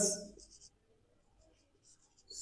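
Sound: writing on a board

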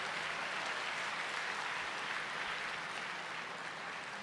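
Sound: audience applause for Dr. Zakir Naik

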